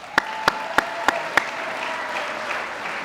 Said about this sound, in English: How about a round of applause for Natanya?